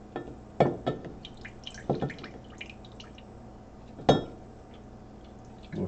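Water draining from a U-flow block in a PC water-cooling loop: scattered drips and small liquid splashes, with a few sharper clinks against glass or metal, close up over a low steady background hum.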